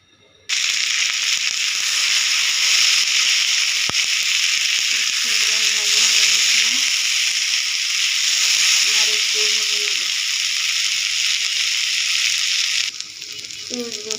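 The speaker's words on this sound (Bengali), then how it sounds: "পেঁয়াজ রসুন ভাজা হয়ে গেছে" Onion and garlic frying in oil in a wok, a loud steady sizzle and hiss that runs nearly unbroken for over ten seconds before cutting off.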